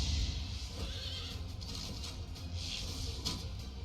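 A horse neighs in Fire Emblem Three Houses, a short whinny set in a busy, hissy game soundscape with no talking.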